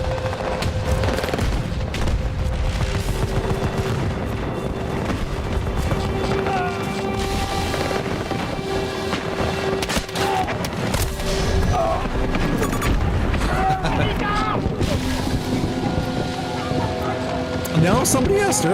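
Grenade blasts and rattling gunfire in a video game battle, a dense, continuous barrage of booms and shots with voices talking over the combat throughout.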